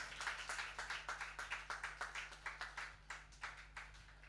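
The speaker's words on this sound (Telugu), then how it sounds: "గట్టిగా చప్పట్లు కొట్టండి" A church congregation claps loudly in steady, rhythmic unison, roughly four claps per second, with a low background hum underneath and no voices.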